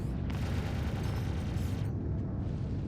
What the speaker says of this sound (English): I think I took those missiles.